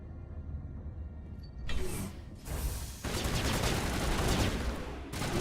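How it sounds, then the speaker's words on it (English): Bursts of gunfire in the video game Mass Effect 1, starting with a short loud volley, then sustained rapid shooting that fills most of the clip, with mechanical clicks mixed in and no talking. "What are you shooting at?"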